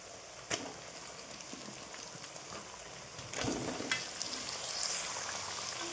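Pre-fried chicken pieces dropped into spinach masala for palak chicken, then steady close sizzling and frying, with a sharp burst of louder sizzle as the meat goes into the pan partway through.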